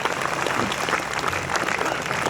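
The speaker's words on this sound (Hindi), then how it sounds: "तो एक बार ढंग से तालियां वालियां बजाओ" An audience at a live Hindi poetry gathering, a kavi sammelan, applauds with dense, sustained clapping that fills the whole stretch, with faint crowd noise mixed in.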